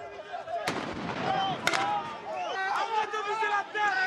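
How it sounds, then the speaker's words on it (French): A defence-ball launcher shot follows a grenade detonation at a street protest, two sharp cracks in quick succession amid crowd noise and voices, one shot a bit louder. "on entend le son typique du tir d'une balle de défense juste après la détonation de la grenade"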